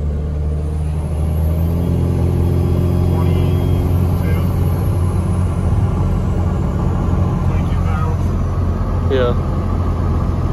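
A red Cummins 12V diesel truck engine runs with a deep, steady, loud rumble, close by and continuous, while people talk over it.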